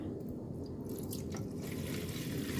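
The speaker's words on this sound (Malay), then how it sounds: "masukkan air" Water runs steadily into a pot while pumpkin agar-agar is being made, a continuous close pouring and splashing with no voices.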